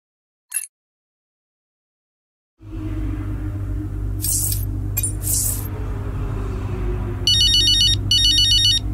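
An electronic phone ringtone in the racing game F1 23 plays as two loud bursts of rapid, warbling tones over a steady low rumble, after a few softer chimes and clicks.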